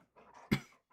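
A pet dog sitting in someone's lap gives a single short, sharp whimper or yelp, close and fairly loud, against a quiet, faintly murmuring room.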